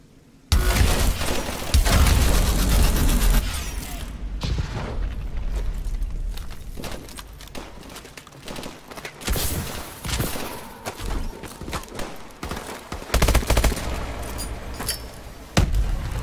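Gunfire and heavy booms in Call of Duty: Advanced Warfare campaign combat, dense rattling volleys and blasts, loud and close, rising and falling in waves with a deep rumble beneath.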